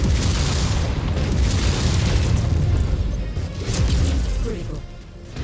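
Continuous heavy rumbling blasts of missile explosions in MechWarrior 5: Mercenaries, a dense, loud, booming wash of impacts with no pauses.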